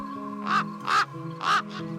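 Crows give four harsh, fairly close caws in an uneven rhythm, with a steady low drone underneath and no voices.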